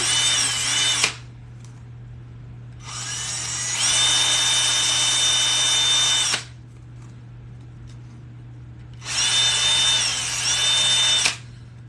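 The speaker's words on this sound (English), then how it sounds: "Let's drill them a little bit more." A power drill bores holes into a leather hexagon tray, running in two long bursts with quiet pauses between them. A low steady hum sits underneath throughout.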